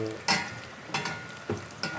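Garlic sizzles in a pan with very little oil while being cooked for nihari. A soft, steady frying hiss is broken by four sharp stirring scrapes at even intervals, close up, with no talking.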